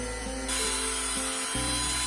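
An electric drill drives a mixer paddle through heated resin, giving a steady loud motor whine with a slight stepwise shift in pitch partway through, heard alone and close.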